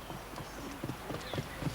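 Hooves of a ridden horse clip-clop in a steady walking rhythm at an archaeological site in Peru, several regular footfalls at moderate distance over low background noise.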